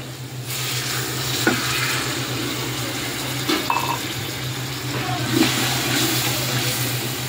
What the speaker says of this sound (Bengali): তো এখন একটু পানি দিয়ে দিই।